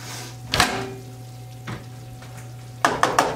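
A spoon stirs homemade enchilada sauce in a pot, giving a few short scraping knocks against the pot over a steady low background hum.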